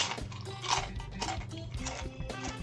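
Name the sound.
person eating food during Minecraft speedrun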